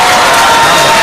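Brief burst of crowd cheering and clapping from a mushaira audience in Khamgaon, dense and loud throughout with no pauses.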